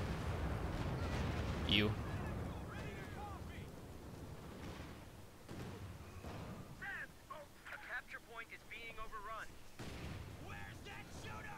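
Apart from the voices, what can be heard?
Stuka artillery barrage in video game Company of Heroes 2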